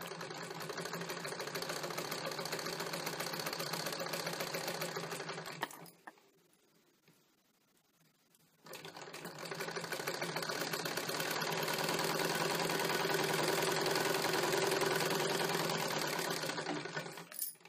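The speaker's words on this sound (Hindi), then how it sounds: "अब हम इसमें सिलाई करेंगे इस तरह से।" Sewing machine stitching the waistband of a single katori blouse, a steady dense mechanical whir running close and loud, stopping briefly midway before resuming at full speed until near the end.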